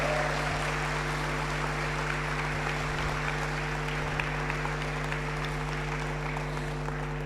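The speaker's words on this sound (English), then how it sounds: "Clap them for me" An audience at a university principal's town hall applauds to welcome a campus group, giving a steady, moderately quiet patter of clapping over a constant low electrical hum.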